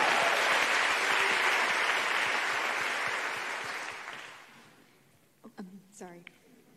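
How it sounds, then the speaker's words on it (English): A town hall audience in Charleston, South Carolina, applauds loudly and steadily for about four seconds, then the clapping fades away and a few words of speech follow. "Let's give a big round of applause and a big thank you to our March for Lives team"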